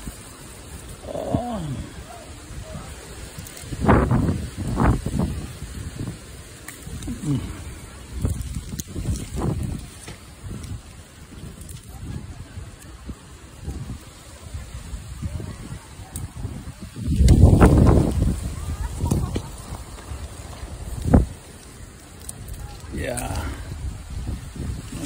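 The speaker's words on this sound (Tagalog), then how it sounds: "Ooh, it's so windy, guys." Strong wind buffets the microphone in an apple orchard of red delicious trees, with loud low rumbling gusts, the heaviest near the middle, while people talk intermittently.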